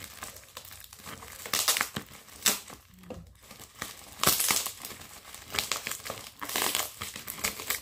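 Plastic packaging from an online order of beauty products crinkles and crunches as it is opened with a nipper, in irregular bursts of close rustling with no talking.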